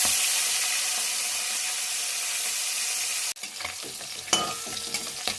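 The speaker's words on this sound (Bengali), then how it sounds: "মাছগুলো ভাজা হয়ে গেছে, আমি তুলে নিচ্ছি মাছগুলোকে।" Tangra fish sizzle loudly in oil in a wok, a dense continuous hiss that suddenly drops away as the fried fish are lifted out, leaving quieter crackles, scrapes and clinks of utensils.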